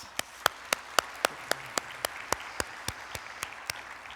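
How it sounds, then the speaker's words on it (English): At the AZBio Awards ceremony, steady, evenly spaced claps ring out about four times a second, crisp and fairly faint, like a single pair of hands or a small sparse group rather than a full crowd. "Let's give her a round of applause."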